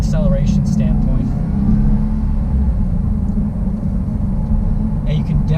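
A 2019 Subaru STI pulls hard on the interstate, its steady low engine drone and road rumble filling the cabin throughout, with a voice talking faintly over the top.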